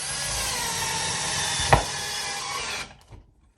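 A screw on an IKEA DALFRED bar stool being turned in during assembly, heard as a continuous close grinding whir for about three seconds with a sharp click partway through, then it stops.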